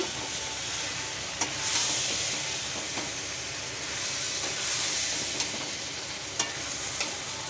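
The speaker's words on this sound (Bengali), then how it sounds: "একটু মিশিয়ে নিলাম" A spice paste of ground coriander, cumin and chickpea sizzles and fries in a pan while being stirred, with a steady hiss broken by occasional scraping clicks.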